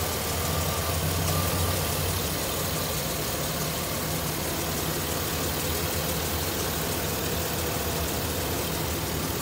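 A 2013 Chevy Silverado 2500 heavy-duty truck engine idles steadily at a constant low rumble, a broad, even hum with no revving and no voices.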